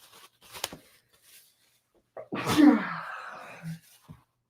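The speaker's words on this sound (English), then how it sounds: "Wait, I'm going to sneeze." A single loud sneeze bursts out after a quick sharp intake of breath, close to the listener, with a few small breathy sounds around it.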